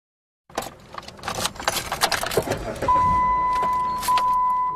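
Heavy keychain keys jangle and clink inside a car, with a steady electric whine rising partway through, close and fairly loud with no voices.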